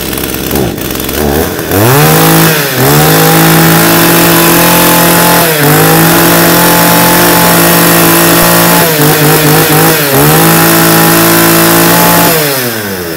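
A used Japanese chainsaw engine is pulled and started, then runs loudly up close, idling with several sharp revs throughout.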